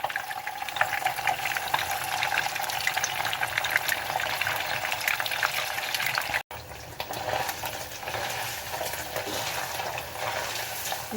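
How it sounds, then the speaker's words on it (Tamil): Paneer pieces frying in hot oil, a steady dense crackling sizzle that runs throughout with one brief cut partway, no voices. "இதை நம்ம பன்னீரை நம்ம எண்ணெயில் போட்டு பொரிச்சு எடுத்துடலாம்"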